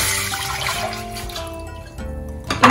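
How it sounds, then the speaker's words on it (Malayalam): Two glasses of water pour into a tea pot on a stove top, a steady, close splashing stream that changes tone as it fills and ends with a brief louder splash. "ഇനി 2 ഗ്ലാസ് വെള്ളം ഒഴിച്ചു കൊടുക്കാം"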